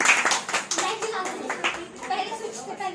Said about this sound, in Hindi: तालियां तो बजाओ भाई।